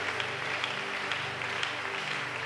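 A church congregation claps in steady rhythmic applause, a dense, moderately loud wash of hands with faint voices beneath.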